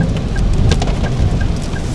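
Steady rain with rumbling thunder in Davao City, a loud continuous wash of rain and low rumble, with a few faint birdlike chirps over it.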